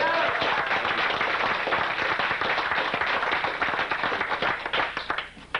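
A room full of people applauds a salesperson's first month of sales at a company success meeting: dense, loud, sustained clapping from a close crowd that holds steady for several seconds before thinning out at the end.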